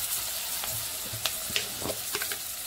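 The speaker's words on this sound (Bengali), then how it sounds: "দিয়ে দেবো আমি টমেটো" Onion and tomato fry in a pan, a steady close sizzle broken by several scraping stirs and soft knocks of a spatula.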